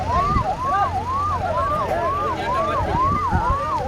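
Emergency vehicle sirens wail in repeated rising-and-falling sweeps at the scene of a road accident, loud and steady, with traffic rumbling low underneath.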